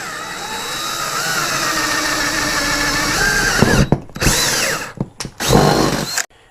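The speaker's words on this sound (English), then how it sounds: "Let's get our drill on." A power drill whines steadily up close, then stutters into several short bursts and stops, loud and alone.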